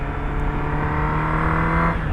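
A motorcycle engine drones steadily at high revs, close and loud, holding a constant pitch through a missed gear change, then easing slightly at the end.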